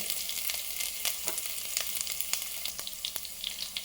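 Ginger frying in a pan for millet pongal gives a steady, close sizzle with scattered sharp crackles and pops throughout, no voices.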